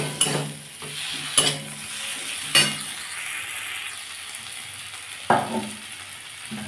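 Tilapia fish curry with raw tomato sautéing in a pan, a steady sizzle broken by several sharp scrapes and clinks of a spatula stirring against the pan, close and fairly loud, with no talking.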